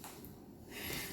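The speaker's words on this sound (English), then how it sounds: "Let me clear my throat" A person clears their throat once, close and fairly quiet, a short rough burst of breathy noise that swells toward the end.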